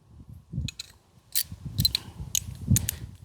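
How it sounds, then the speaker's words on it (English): A regular socket wrench ratchets on a bolt of a Husqvarna Z242F zero-turn lawn mower, a series of close clicking bursts over low mechanical knocks and shuffling. "You can use either a deep well socket or just a regular socket. I'm just gonna use a regular socket."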